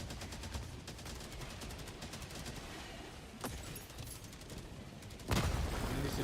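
Machine gun turret firing in a video game, rapid rhythmic bursts of shots under a dense battle din, with a sharp blast near the middle and a heavier boom toward the end.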